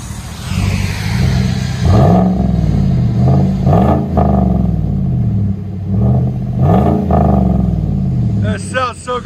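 A 2018 Chevy Silverado with a 5.3L V8 and Vibrant bottle resonator exhaust revs repeatedly, several loud rising-and-falling throttle blips close by, with voices talking over parts of it.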